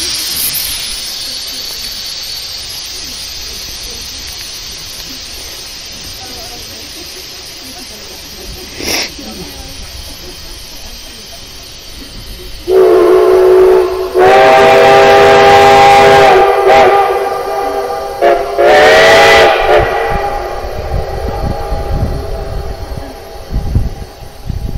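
A steam locomotive on the Cumbres and Toltec line hisses steadily, then sounds long, loud whistle blasts in two bursts, close by and dominating the scene.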